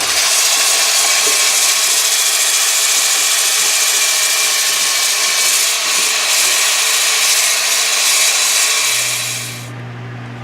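Steady, loud abrasive rubbing of sandpaper on wood, continuous without breaks, with a low hum coming in near the end as the scraping fades slightly.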